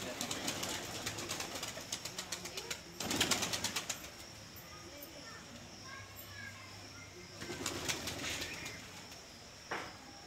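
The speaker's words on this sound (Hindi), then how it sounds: "छत में आप कबूतर देख सकते हो।" Pigeons gather on a rooftop, with bursts of wing flapping and scattered soft coos over a steady outdoor background, the flurries rising and fading at intervals, with distant voices in the mix.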